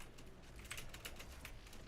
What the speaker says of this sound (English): at least you have a good sounding keyboard